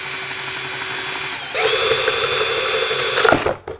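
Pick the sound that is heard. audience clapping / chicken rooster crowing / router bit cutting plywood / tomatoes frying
router bit cutting plywood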